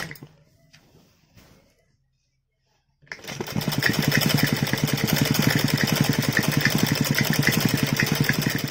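Sewing machine stitching a line down the centre of saree fabric for a party-wear dress, starting after a quiet pause with a few faint sounds, then running fast and steady as a loud, close, continuous mechanical rattle.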